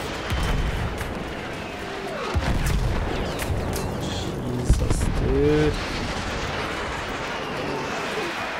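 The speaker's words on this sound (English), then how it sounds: "No, those explosions are like literally on my ass right now" Explosions and artillery fire boom in a Battlefield 1 battle: heavy, rumbling blasts and scattered gunfire pile up close by, with one sharp bang near the middle, while someone talks excitedly over the din.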